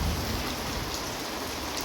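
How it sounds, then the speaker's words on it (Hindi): Steady rain pours down on a rainy day at a home in India, a dense, close hiss of drops hitting surfaces that fills the whole moment without voices. "तो हमारे यहाँ आज हो रही है बारिश, ये देखिए।"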